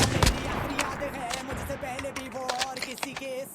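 Call of Duty Mobile gunfire rings out as rapid sharp shots and short bursts during a multiplayer fight, mixed with game sounds and a voice.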